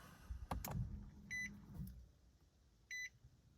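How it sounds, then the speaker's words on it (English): A 2011 Nissan Altima being switched on: a few quiet mechanical clicks and a soft whir, followed by two short electronic chimes spaced apart inside the cabin. "turn the car on"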